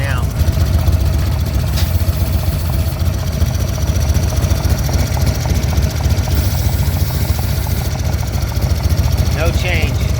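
A motorcycle engine idles steadily during an intake leak test at the carburetor boot, a continuous low rumble throughout with faint clicks near the end.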